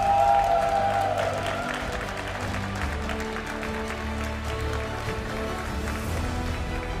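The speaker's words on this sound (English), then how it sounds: "Give one more round of applause for Paulasha!" Sustained applause from an audience fills the clip, steady and fairly loud, with a brief tone at the start and no clear voices, at a Pokémon Special Event tournament in Bologna, 2024.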